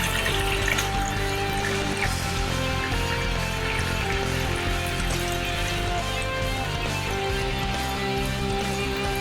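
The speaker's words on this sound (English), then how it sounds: "So we're going to throw some cold water into this." Cold tap water pours steadily into a stock pot for chicken stock in a home kitchen, a continuous splashing rush with faint background hum and no speech.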